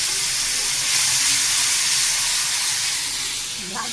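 Onion-tomato paste hits hot oil tempered with black cumin for a masala prawn dish, giving a loud, steady close-up sizzle and hiss that holds for the whole stretch with no talk.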